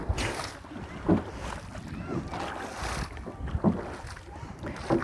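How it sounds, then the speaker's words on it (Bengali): A boat moving at a fair speed across open water: rushing, churning water with uneven surges and splashes, mixed with gusty wind noise close to the microphone. "নৌকা থেকে পানির শব্দও শুনতে পাচ্ছি"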